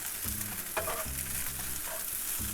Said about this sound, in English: stir fry that. Try to get that well incorporated.